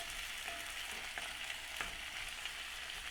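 Tomatoes and onions caramelizing in a pan give a steady, moderately loud sizzle, with a few soft stirring scrapes scattered through it and no voices.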